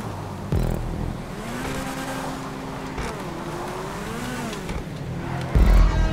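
A supercar engine hums and shifts pitch while driving in GTA 5 Online, with a steady drone that rises and falls and a louder surge near the end.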